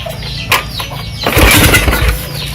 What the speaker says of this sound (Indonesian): Bisa menggunakan kickstarter ataupun starter atas.